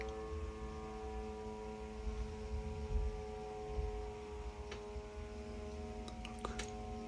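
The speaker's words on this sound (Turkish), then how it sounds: "Bak, bu drone sesi." Steady, droning buzz with a constant harmonic hum from a drone hovering overhead in Kyiv, holding level throughout with a few faint ticks near the end.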